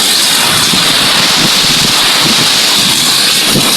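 Heavy rain and gusting wind from Typhoon Uwan in Bicol, Philippines, form a dense, steady roar of downpour with rushing wind and buffeting on the microphone. The sound is loud and continuous throughout, with no voices.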